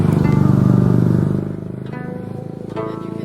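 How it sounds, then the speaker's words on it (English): Scooter engines buzz and rev nearby in Vietnamese street traffic, one droning loudly then fading as another passes, with a faint voice mixed in. "you can hear the scooters ever present."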